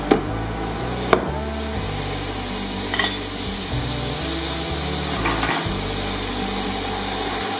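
Butter melting in a hot pan while duck breast is cooked, a steady soft sizzle throughout, with a couple of sharp knocks near the start.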